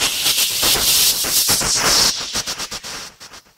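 Synthesized noise sweep shaped by an intensify effect in Reason, a bright hissing wash that swells and then breaks into rapid rhythmic pulses as it fades, alone and fairly loud.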